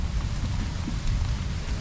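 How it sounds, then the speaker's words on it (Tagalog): Steady rain falling outdoors on a farm plot where fertilizer is being spread, a dense continuous hiss with low rumbling wind noise throughout, no talk. "medyo lumakas yung ulan mga katong"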